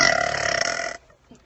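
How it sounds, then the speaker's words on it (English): A loud, long burp from a young woman, rough and sustained for about a second before cutting off, followed by quiet and a faint voice. "I'm like talking like going up to people and burping, making people burp"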